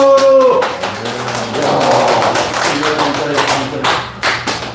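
Hands clapping together in a senior healing class at a church gathering, a burst of loud applause beginning right after a voice and continuing steadily through the clip.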